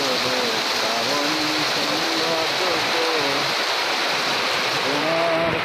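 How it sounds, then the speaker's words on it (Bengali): Heavy rain pours down outdoors with a dense, constant roaring hiss, and a voice is faintly audible beneath the downpour at moments. "বৃষ্টি এত বৃষ্টি, আমার মোবাইল ভিজে যাচ্ছে।"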